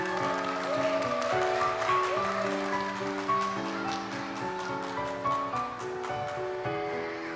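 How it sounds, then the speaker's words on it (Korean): Applause greets an elementary school choir walking on stage at a children's song contest, soft scattered clapping heard over steady sustained music that plays throughout. "큰 박수로 맞이해주시기 바랍니다"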